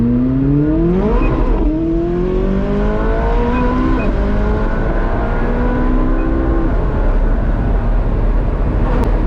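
Open-top car being driven hard around a dry track, its engine note climbing steadily through several gear changes, loud and close with heavy wind rush throughout.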